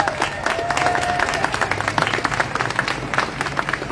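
A crowd at a Free Palestine rally applauds continuously, dense clapping mixed with a few cheers, loud and close throughout.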